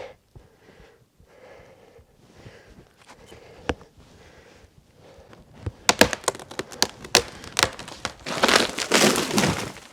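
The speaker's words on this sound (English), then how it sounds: "I'm just going to push it until I start hearing the crack." An axe-cut tree trunk being pushed over gives quiet creaks at first, then a run of loud sharp cracks and splintering snaps that build toward a heavy rustling crash near the end.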